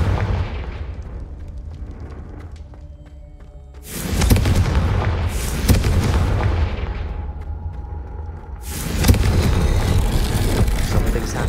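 Confringo fire spell explosions in the video game Hogwarts Legacy: a few heavy, loud booming blasts with long rumbling tails, each bursting out of a lower ambient bed and spaced a couple of seconds apart.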